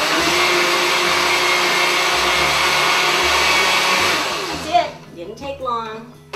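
A blender whirs loudly and steadily while mixing egg-white custard ingredients, then switches off abruptly, followed by a few seconds of a person speaking.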